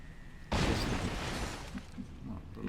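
A small explosion from the strategy game XCOM Long War of the Chosen bursts suddenly and loudly, then rumbles and fades over a couple of seconds with faint scattered pops.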